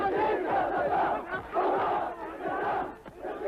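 A huge crowd in Iraq chanting for Saddam Hussein, many voices roaring in rhythmic waves of unison shouting that swell and fall several times, dense and loud.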